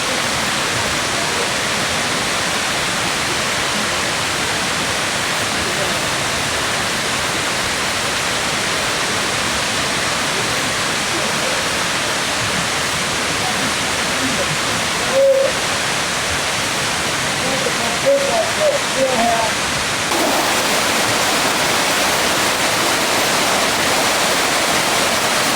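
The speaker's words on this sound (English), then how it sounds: "In the same courtyard where a big waterfall is," Large waterfall in a garden courtyard in Rome, heard as a steady, broad rush of falling water that continues unbroken, with a few faint brief voices or sounds near the middle.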